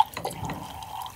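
Sanitizer liquid pours from a keg line into a container, making a short splashy trickle and dripping that starts with a sharp drop and then runs on steadily at close range.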